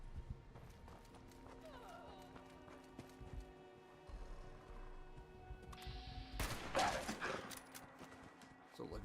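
Gunfire in the video game Fallout 76, a burst of shots at mid-distance breaking in over game ambience and music, with a person talking through it.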